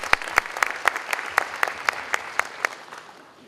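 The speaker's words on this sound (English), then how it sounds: "Give them a round of applause for those people," Applause at an anniversary celebration, a steady patter of claps with louder single claps standing out in a regular rhythm, trailing off at the end.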